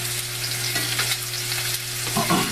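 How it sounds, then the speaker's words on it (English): Lollipop lamb chops sear in a hot pan, a loud continuous sizzle and spatter with a steady low hum beneath and a few brief crackles toward the end. "what we're really looking for right now is just to get a little bit of a sear on both sides"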